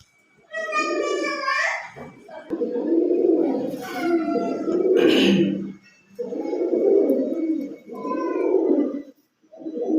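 Pigeons with distinctive white-speckled coloring coo in low, rolling phrases, repeated several times, while a voice chatters over them nearby.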